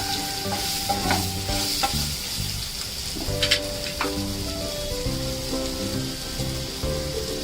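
Raw mango pieces sautéed in spices in a pan, a dense crackling sizzle like rain under repeated spoon scrapes and clinks, with a steady tonal hum running underneath, close and fairly loud, no speech.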